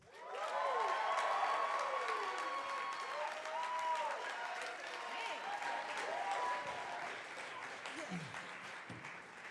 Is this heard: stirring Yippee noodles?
no